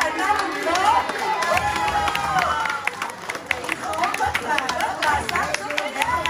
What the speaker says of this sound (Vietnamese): Quý vị cho một tràng pháo tay.